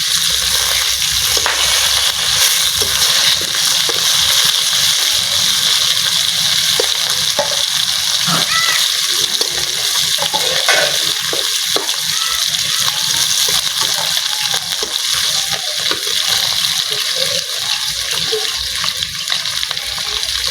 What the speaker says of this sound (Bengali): এখন তুলে নেব যেগুলো ভেজে তুলে নেবো আর যেগুলো এইখানে আর একটু দেবো